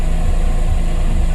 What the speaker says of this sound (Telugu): ఇప్పుడే ఇంజిన్ ఆన్ చేశాను.